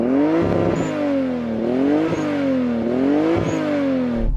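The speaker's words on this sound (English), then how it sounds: "And now the Toyota Supra." A Toyota Supra engine revs repeatedly, loud and close, in a rhythmic series of rises and falls with a whirring, clattering edge and no voices.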